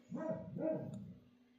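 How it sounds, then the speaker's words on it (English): A dog barks twice in quick succession, two fairly close, moderately loud woofs about half a second apart, then quiet, with a low steady hum in the background. "The dog's barking"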